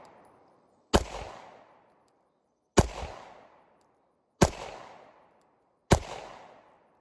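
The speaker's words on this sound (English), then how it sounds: "So let's see how Federal punch feels." Four pistol shots from a Glock 43X firing Federal Punch ammunition, spaced about one and a half seconds apart, each a sharp loud crack with a short echoing tail at an outdoor range.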